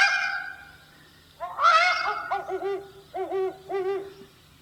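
A pair of great horned owls calling back and forth in a duet, a series of deep resonant hoots in short rhythmic bursts, close and clear against a quiet background.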